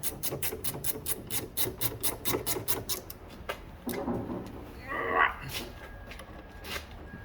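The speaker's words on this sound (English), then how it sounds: "I got my ratchet wrench right here" A ratchet wrench turns quickly on the rear brakes of a Nissan Rogue during a brake pad replacement, giving a rapid run of sharp, evenly spaced clicks that slow and thin out, followed by scattered clanks and handling noises.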